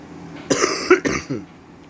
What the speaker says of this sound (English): If you hear me coughing, I am a little sick